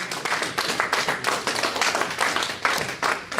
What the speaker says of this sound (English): So one round of applause, everyone, for Steve!